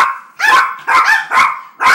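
A dog barks loudly and close by in four evenly spaced bursts over two seconds, each bark strong and full, with no talking in between.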